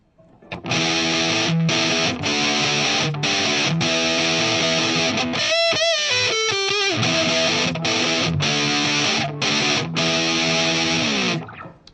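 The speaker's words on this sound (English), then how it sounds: "this is a pretty high gain pedal" An electric guitar through a Boss MT-2 Metal Zone high-gain distortion pedal into a Marshall JCM 2000 half stack, thick saturated chords ringing continuously, with a quick run of single notes midway, loud and close.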